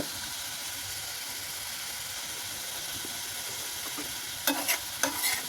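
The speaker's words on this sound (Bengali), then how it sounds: "এখানে আমি কিন্তু মশলাগুলা খুবই অল্প পরিমাণে দিয়ে ভালো করে মশলাটা কষিয়ে নিচ্ছি" Spices for a meat curry sauté with a low, steady sizzle and hiss, and near the end a few louder stirring scrapes break in. No one speaks.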